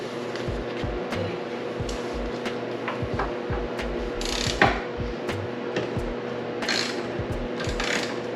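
Repeated ratchet clicks from a wrench loosening a bolt on an S15 Silvia being prepared for paint, a steady series of close, quick clicking strokes with short pauses, no talking.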